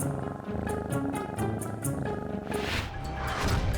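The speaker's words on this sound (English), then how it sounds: "So, why do cats purr?" A cat purring in a steady, continuous rumble, fairly close, with no talk over it.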